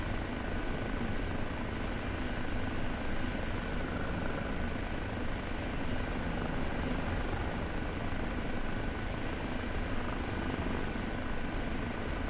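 A Kiowa helicopter flies in the DCS flight simulator, its rotor and engine giving a constant, dense, throbbing drone that holds steady and loud throughout.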